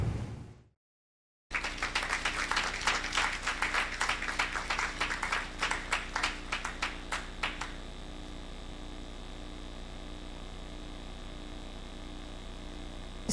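Applause from an audience at the launch of Ecobank Sustainability Week, a dense burst of clapping that thins into scattered claps and fades out after several seconds, leaving a steady hum.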